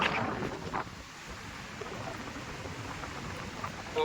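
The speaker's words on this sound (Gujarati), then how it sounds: "પવનનો વધારે છે, અને તોફાન જેવું માહોલ છે" Strong wind blowing off a stormy, rough sea at Alang shipyard, a continuous roaring rush with buffeting gusts against the microphone and a faint wash of surf underneath, no voices.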